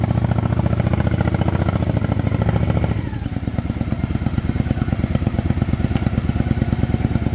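A motorcycle engine runs close by with a loud, steady rapid thumping idle; partway through the tone shifts to a rougher, clattering beat that keeps going to the end, with no voices over it.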